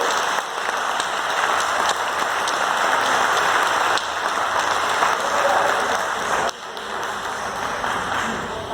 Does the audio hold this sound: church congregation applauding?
yes